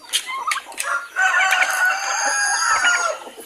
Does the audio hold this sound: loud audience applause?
no